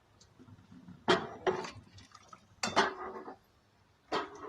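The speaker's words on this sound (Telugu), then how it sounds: "పులిహోర చేస్తున్నా. పులిహోర కలుపుతున్నావా?" Metal utensil scraping and knocking inside a pot while tamarind rice (pulihora) is mixed, a few loud clanking strokes separated by quieter stirring, close by.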